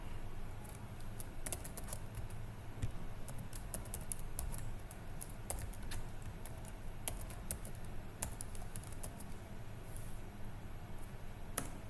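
Soft, steady keyboard typing of an email and password at a login screen, with a continuous patter of light key clicks at moderate distance over a low background hum and no talk.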